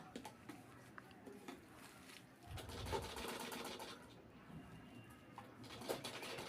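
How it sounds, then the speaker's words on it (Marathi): A sewing machine stitches slowly around a round piece of sari fabric for a bag, its quiet motor whirring in short runs with faint ambient sounds in the background. "फिरवून वरचा पीस असा राऊंड शेपमध्ये फिरवत हळूहळू शिलाई करत राहायचं आहे"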